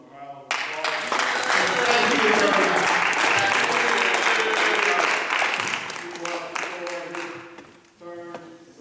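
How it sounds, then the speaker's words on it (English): A health care event audience breaks into sustained applause for a presenter, loud and dense for several seconds before tapering off as a voice returns near the end. "Let's give him a round of applause."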